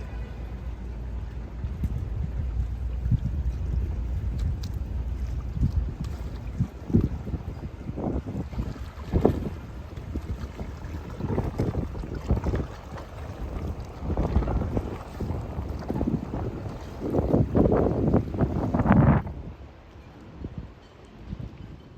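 Strong wind from a tropical storm buffets a boat on the water, a steady roaring rush with gusty thumps and bursts of microphone buffeting that grow heavier toward the end before cutting off abruptly.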